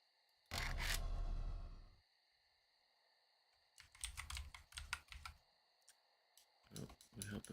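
Computer keyboard keys are pressed in irregular clusters of close, sharp clicks and taps, with a louder scrape or thump near the start and pauses between bursts.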